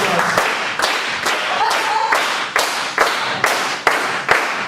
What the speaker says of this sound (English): get a bit of clapping going